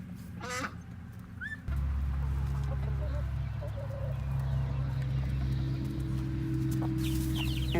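Mixed-breed laying chickens cluck and squawk in a short burst at the start, then a steady low hum and background noise continue with occasional faint bird calls.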